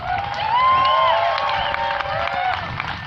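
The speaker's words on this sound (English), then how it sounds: "Let's give her a round of applause." A crowd applauds and cheers for an artist at a group event, with whoops and shouting over steady clapping, fairly close and loud throughout.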